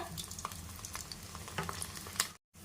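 Smashed ingredients frying in oil for a dal tempering give a soft, continuous crackle and sizzle, quiet and close, with a few light pops and scrapes and no talking.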